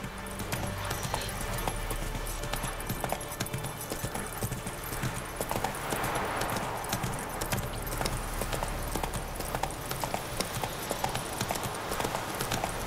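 Horse hooves clip-clop at a gallop in The Witcher 3 video game, a steady rhythmic pounding under dense music and ambient game noise, moderately loud throughout.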